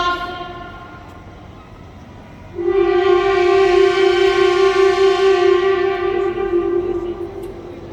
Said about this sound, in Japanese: 正解は車両ステーションの後方に展示されている200系新幹線電車の汽笛でした